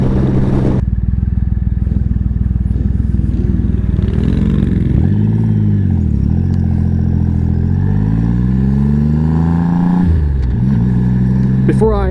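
A motorcycle cruising fast on a 55 mph highway at about 70, its engine droning loudly and steadily with pitch sweeps as it rises and falls, wind-roughened and continuous throughout.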